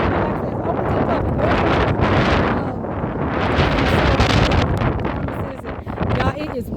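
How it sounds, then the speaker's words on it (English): Strong wind buffets the microphone outdoors in the Midwest, Illinois, ahead of a possible storm, giving a steady, loud rumbling roar that swells and dips for the whole stretch, with a voice faintly underneath. "it is windy out here"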